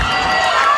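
A concert crowd at a show in Charlotte cheers loudly and steadily, a dense, continuous roar of voices filling the whole moment without a break.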